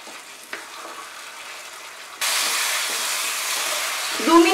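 Rohu fish curry masala frying on a high flame while being stirred, a faint hiss that jumps abruptly into a loud, steady broadband sizzle, close up, with a brief scraping clatter near the end.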